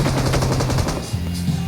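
Rapid automatic gunfire from a video game weapon rattles loudly and steadily through the clip, bursts running together with engine-like droning underneath and no talking.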